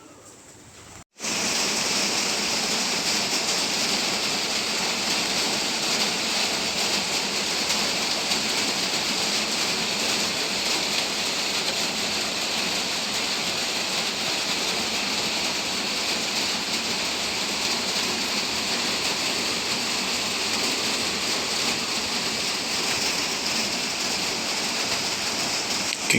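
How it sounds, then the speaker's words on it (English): After a brief quiet moment, steady heavy rain starts and continues as a dense, even rushing hiss with no letup. "it's still raining outside"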